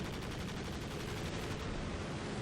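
Dense, continuous strafing gunfire from an air support run in Company of Heroes 2, a sustained loud roar of overlapping rapid shots with no pauses across the whole stretch.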